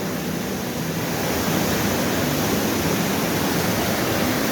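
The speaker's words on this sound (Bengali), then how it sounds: "এইখান থেকে জলটা বয়ে যাচ্ছে নেমে যাচ্ছে" Kanchenjunga waterfall near Pelling pouring down with force, a loud, steady broadband roar of rushing water that fills the whole scene without pause.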